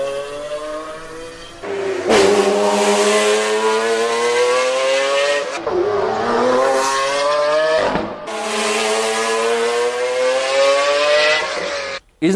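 A Lamborghini Aventador's 6.5-liter V12 revs hard in three long, loud pulls, its pitch climbing steadily through each run before it briefly drops between them, heard close and alone.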